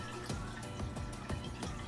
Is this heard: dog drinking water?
yes